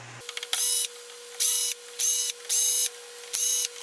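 A powered driver backs screws out of a Carter 4907S carburetor for a Ford FE engine, giving five short, loud whirring bursts over a steady electrical hum.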